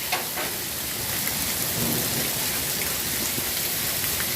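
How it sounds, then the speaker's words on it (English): Heavy rain pours steadily in a Las Vegas thunderstorm, a dense close hiss of drops on surfaces with a low thunder rumble rolling underneath, no voices. "Huge lightning."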